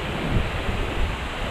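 Strong wind buffets the microphone at a fishing spot, a loud, continuous roaring rumble with gusty swells and no voices.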